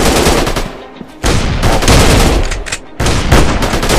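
Rapid automatic gunfire rattles in a Special Ops first-person shooter mobile game, loud and close, in dense bursts with brief gaps between volleys.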